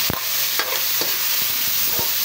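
Onion and tomato sauté in a pan for Filipino pinakbet, a soft steady sizzle punctuated by several sharp taps and scrapes of a stirring utensil, close and without voices.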